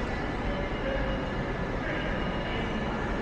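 An Avanti West Coast train running between Birmingham and London, a steady loud rumble of wheels and carriage noise heard from on board, with no talk.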